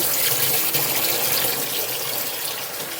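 Water pouring at full flow into a fermenting container up to the 60 litre mark, a loud, steady rushing and splashing close by with no voices.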